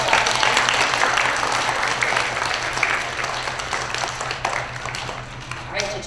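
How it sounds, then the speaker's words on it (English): An audience at a school Student of the Month ceremony claps loudly and steadily for a second-grade student, with continuous applause that holds throughout and tapers slightly near the end. "So let's give Liam a nice big round of applause."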